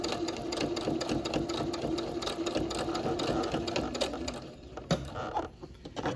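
A sewing machine stitches around the edge of a pleated fabric face mask, running in a fast, steady mechanical chatter close up, easing off and stuttering briefly near the end, with no one talking.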